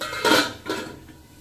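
A metal lid clatters onto a cooking pot of hilsa fish curry with vegetables, two quick knocking clanks close up, then quiet.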